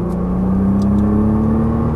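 A Nissan GT-R or Ferrari 458 race car engine pulls hard on throttle out of a corner at Exotics Racing, a loud close rising whine climbing steadily with no talking.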